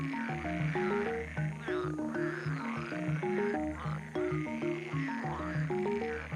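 Male frogs call together in a pond in a dense chorus of deep, rhythmic croaks that overlap and repeat quickly, close and steady throughout, with no voices.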